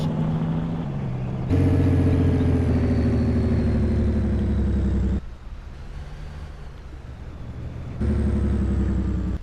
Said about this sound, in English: Turn on the Jake brake again so we can hear it roar or rumble as we come to the next stop sign.